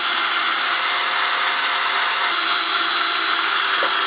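A power drill spins the engine of a Cub Cadet garden tractor to prime it, giving a steady, loud, continuous whirring hum with no break or talk.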